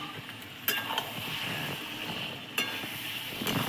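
Mutton cooked with papaya sautéing under a lid in a pan, a steady close sizzle with a few sharp clinks of lid or utensil against the pot.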